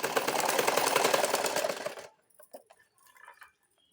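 A domestic sewing machine that keeps breaking thread stitches a shoulder seam on a blouse, a fast dense rattling run lasting about two seconds, then stopping, followed by faint handling clicks.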